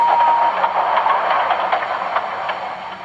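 A toy steam engine train runs along its track with a steady, close rolling rattle and a faint rhythmic clatter that eases slightly toward the end.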